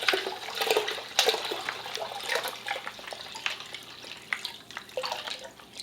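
Ice water splashes and gurgles as it is poured into a container of ham brine for a wet cure, an irregular run of close liquid pours and splashes with no talking.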